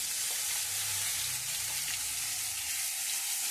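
Two bay leaves and a little cumin fry and get stirred in a pan for a prawn and pointed gourd curry with yogurt. A steady, close sizzle runs throughout with no one talking.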